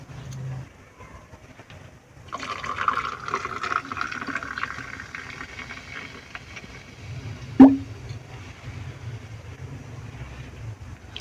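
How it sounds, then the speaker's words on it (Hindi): Sprite is poured into a watermelon drink, a soft steady fizzing and liquid fill sound close by, with one brief clink partway through. "अब इसमें हम शामिल कर देते हैं स्प्राइट।"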